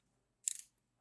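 Brief quiet burst of fine ratcheting clicks as the unidirectional rotating bezel of a Thommen Diver XL 300M watch is turned, close and isolated against near silence.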